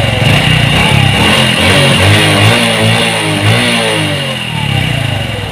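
Fuel-injected Honda Revo motorcycle engine with a faulty spool, running loud and close with a continuous buzzing drone and slight swells in revs throughout, with no talk.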